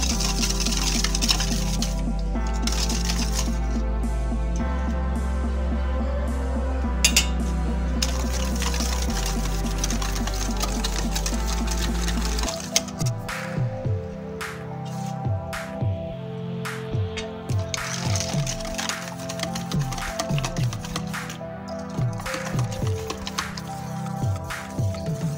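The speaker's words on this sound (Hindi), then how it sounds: "ये थोड़ा थोड़ा इसमें मैदा डालते जाएंगे और इसे मिक्स करते जाएंगे।" Flour and baking powder are mixed in a bowl for homemade pancake batter. A low steady hum fills the first half, then repeated wet stirring and light scraping clicks continue at an even pace, with no voices.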